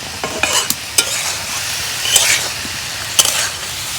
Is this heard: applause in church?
no